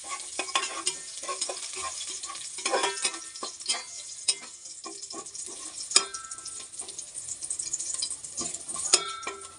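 A small amount of chopped garlic sizzles in oil as it is stirred, a continuous bright hiss broken by frequent close scrapes and clinks of a spoon on the pan.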